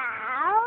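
A young child imitates a cat with a single drawn-out meow, rising then falling in pitch, close and clear with nothing else behind it.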